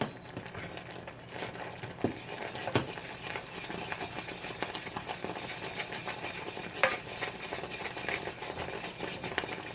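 Christmas crack toffee bubbles in a pot while a spoon scrapes and stirs it, with soft irregular scrapes and knocks over a low simmering sizzle and no speech.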